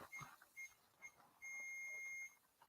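Electronic alarms beep in a dark, quiet room during a paranormal investigation: three short chirps spaced about half a second apart, then one long sustained tone lasting nearly a second, faint and alone with no talk.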